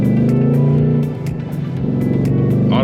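A 2024 Ford Mustang Dark Horse engine drones loudly from inside the car while driving, its steady rumble dipping briefly mid-way before building again, with no voices.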